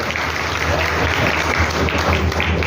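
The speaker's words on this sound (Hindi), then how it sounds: "जोरदार तालियों के साथ" Loud, sustained applause fills a ceremony honouring a newly selected IAS officer who placed 209th in the UPSC exam, a dense steady roar of clapping with faint voices underneath.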